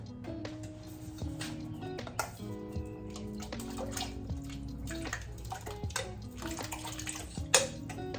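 Potatoes clatter into a big pot of broth for copycat Zuppa Toscana, with dish and utensil clinks, splashes and knocks spread over several seconds at moderate level, no talking.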